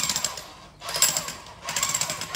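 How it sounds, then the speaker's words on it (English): A jackhammer breaks up a large cement slab at a house foundation dig in Loei, hammering in two loud, rapid bursts split by a brief pause. "So I had to bring in a jackhammer"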